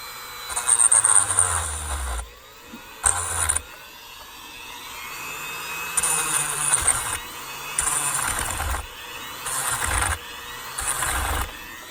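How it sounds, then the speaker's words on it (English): A high-pitched Dremel rotary tool with a flat blade whines in repeated bursts of a few seconds each, grinding plastic at close range with quieter gaps between. "I take my Dremel tool with a flat blade on it"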